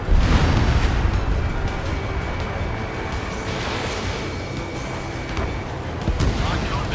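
Bombs explode in Ace Combat 7 as a continuous, loud rumbling roar of blasts and jet noise, with radio-style voices talking over the din.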